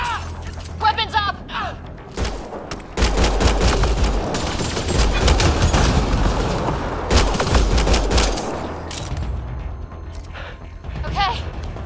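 Rapid bursts of gunfire, thuds and impacts crackle through a battle in the video game Mass Effect: Andromeda on PS4, with characters talking over the shooting.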